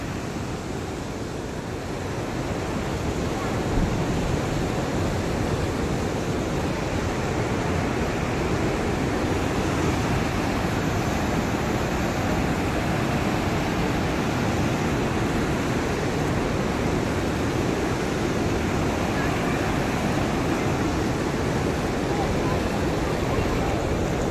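Strong river current rushing steadily below a steep-stepped footbridge, a loud, continuous broadband wash of water that stays even throughout, with no pauses or distinct splashes.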